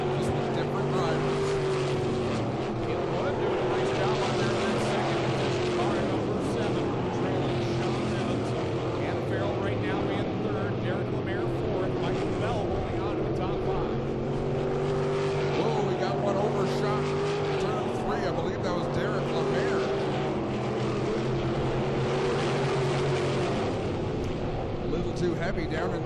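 Crate sprint race cars roar into turn 1 on an oval track, engines droning loud and continuous as the pack sweeps through, with a race commentator talking over the engine noise.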